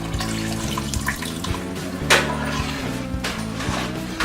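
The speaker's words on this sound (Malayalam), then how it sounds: "നമുക്ക് ഇതിലോട്ട് 3-ാം പാല് ആഡ് ചെയ്തെടുക്കാം." Third coconut milk pours into a pot of payasam as a steady liquid splash and trickle, close and even, with a small clink partway through.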